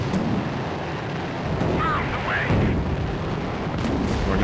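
Aircraft cannon fire in the Vietnam-era combat flight sim Strike Fighters 2: Vietnam, a steady dense rattle of rapid shots over constant engine roar, continuous at moderate loudness.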